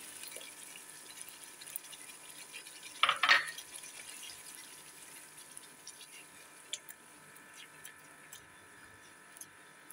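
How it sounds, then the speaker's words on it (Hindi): A cup of yogurt goes into fried, spiced masala for chana dal kofta. A short, wet splash lands near the middle, with a faint sizzle and quiet kitchen background before and after. "अब मैं इसमें दही ऐड करूँगी"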